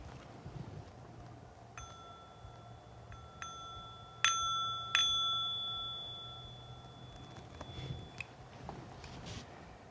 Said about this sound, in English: I'll ring this bell to start the practice and again at the end.